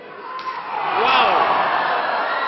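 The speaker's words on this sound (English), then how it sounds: "I guess Rick Fuller wanted the crowd to hear that last chop." A loud open-hand chop strike from wrestler Rick Fuller lands in the ring during a 2006 Powerhouse Wrestling match, a single sharp smack ringing out over an echoing arena crowd.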